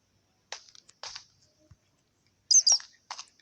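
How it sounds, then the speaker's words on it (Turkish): Several short, high-pitched squawks and chirps of a Minecraft parrot in brief bursts separated by silence. "kuş sesi. Papağan."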